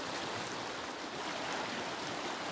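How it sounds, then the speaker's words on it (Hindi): Glacier meltwater rushes down a waterfall or stream in the cold mountains of Soq Valley, a loud, continuous hiss of flowing water close by with no voices. "ये कौन सा आबशार का, ग्लेशियर का पानी है ये"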